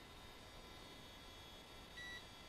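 One short, high electronic beep from an RC crawler's electronic speed controller at full throttle sounds near the end over a faint steady hiss.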